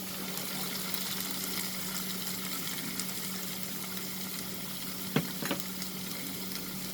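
Onions sautéing in a pan for fried egg curry, a soft continuous sizzle with a low steady hiss and a couple of brief utensil clicks near the end.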